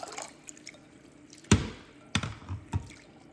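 Water drips and splashes as barley is washed in a bowl, a few distinct sharp splashes over a quiet, faintly trickling background, close and alone.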